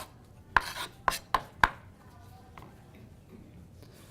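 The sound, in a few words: knife dicing spaghetti squash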